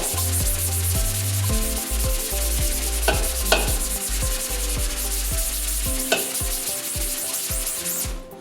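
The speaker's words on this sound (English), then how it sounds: "I'm going to take my scrub brush again and just do a little bit on the inside" A scrub brush rubs steadily over a soapy, degreaser-coated window screen in a sink, a close, continuous scratchy swishing with rhythmic strokes and a few sharper taps.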